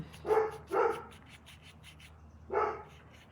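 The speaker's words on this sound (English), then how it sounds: "Excuse the barking." A dog barks three times, two quick barks then a pause and one more, moderately loud and a little distant, with no talking.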